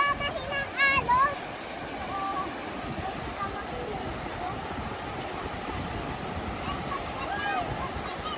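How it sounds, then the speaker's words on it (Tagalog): Gentle sea waves washing ashore on a summer outing in Nagcarlan, Laguna, a steady broad wash of surf with wind noise, with faint voices in the background. "O di ba mahina ang alon?"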